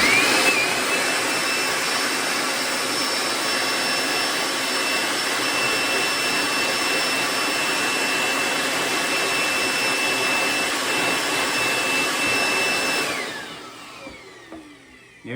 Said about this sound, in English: then I'll come back with a blower